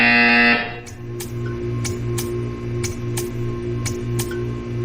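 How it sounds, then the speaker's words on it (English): A buzzer in the video game Portal 2 gives a loud, harsh electronic tone for about half a second, then a steady mechanical hum carries on with regular faint ticks roughly every half second. "You will hear a buzzer. When you hear the buzzer, stare at the art."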